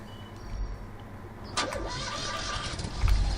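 A purple car's engine cranks and starts in the farming game Farming Simulator 15, a brief click and a sharp catch followed by a low idle rumble that swells near the end, fairly faint.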